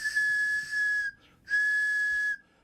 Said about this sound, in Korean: 굵기와 길이, 재료에 따라 다양한 소리가 나는 호루라기 정말 신기하죠?